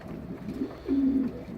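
Young homing pigeons coo close by: a soft brief note followed by a longer, low, drawn-out coo over quiet room background.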